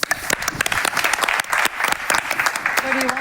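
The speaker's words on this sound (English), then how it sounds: "Big applause." A panel discussion audience claps loudly as a new panelist is introduced, a brief burst of dense close applause with a voice briefly heard near the end.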